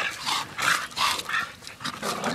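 Pit bull dogs scuffle over a tire outdoors, with close rough growls and snarling bursts in quick uneven pulses, fairly quiet overall.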